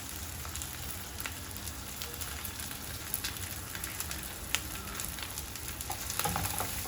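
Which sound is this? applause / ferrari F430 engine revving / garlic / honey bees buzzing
garlic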